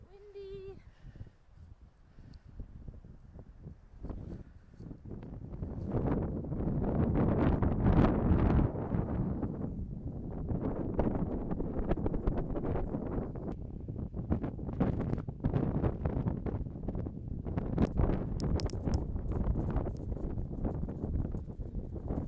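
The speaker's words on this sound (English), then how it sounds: "It is super windy up on top of these hills" Strong wind on a Surrey Hills hilltop buffets the microphone in heavy, rumbling gusts that build after a few seconds and keep pounding unevenly, with brief speech heard faintly at the start.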